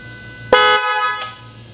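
A car's stock factory horn gives one short, loud honk, followed by a faint second blip, close by over low background hum.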